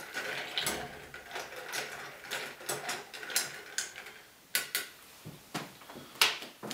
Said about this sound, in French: Un petit tour de cuillère pour bien mélanger les ingrédients.